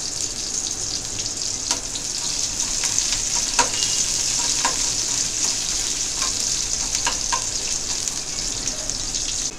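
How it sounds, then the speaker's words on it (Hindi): Chopped onion and garlic sizzle steadily in hot oil in a pan, a continuous bright crackling hiss with occasional stirring clicks and pops, close and alone for nearly ten seconds. "लहसुन के अंदर हम अच्छा फ्राई कर लेंगे हल्का।"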